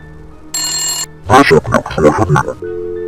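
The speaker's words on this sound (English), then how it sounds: "someone's ringing the telephone here." A short electronic ringtone-like telephone tone in a video game sounds briefly, then a voice talks over scattered noises, ending with a steady low hum.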